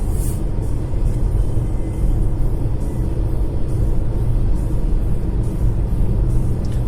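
A Nissan Leaf 30 kWh electric car drives along a road with the heater running, giving a steady loud rumble of road and tyre noise from inside the cabin.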